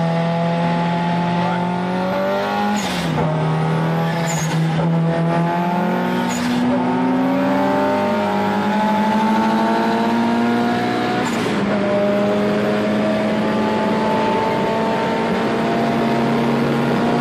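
An SR20-swapped, 420 whp Lada 2104 accelerates hard in a drag race, its loud engine howl climbing steadily through several gear changes and rising again after each shift.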